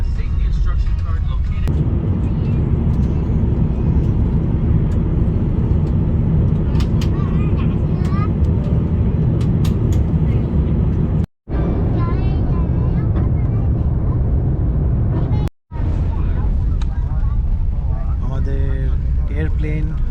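Vietnam Airlines Airbus A350-900 taxiing toward the runway before takeoff, heard from inside the cabin as a steady loud engine rumble and airflow roar, with two brief dropouts and a voice talking over it.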